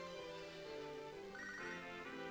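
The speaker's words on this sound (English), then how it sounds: "And Wade is calling me" An incoming-call phone ringtone plays in the video game Pokémon SoulSilver, a short electronic melodic ring that steps up in pitch partway through, heard alone with no talking.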